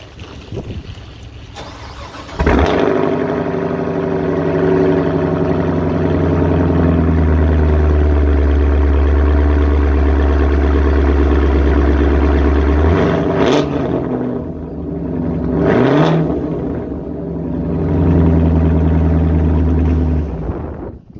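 A 6th gen Chevrolet Camaro fitted with an MBRP axle-back exhaust cold-starts with a sharp bark, then settles into a loud, deep, steady high idle, dipping briefly a couple of times near the end.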